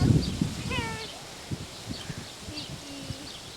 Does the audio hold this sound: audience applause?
no